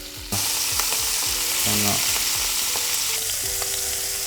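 Fish fillets fry in a pan, a loud close sizzle that swells suddenly near the start and then holds steady, with faint tonal hum and clicks underneath.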